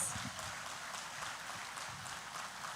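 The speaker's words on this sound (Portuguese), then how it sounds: "Vamos dar uma salva de palmas para eles." A church congregation applauds visiting guests during a Sunday service: a dense, steady patter of many hands clapping at once, fairly faint and distant, lasting the whole moment without speech.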